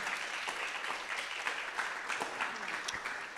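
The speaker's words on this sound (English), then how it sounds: "A round of applause" Applause for a storyteller at a university storytelling event: continuous, fairly soft clapping from a seated audience, steady throughout with no voices standing out.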